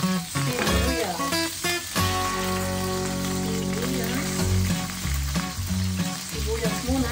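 Onions frying in a pan for Filipino pinakbet, a loud steady sizzle that holds for several seconds, with a faint tone and some clatter underneath.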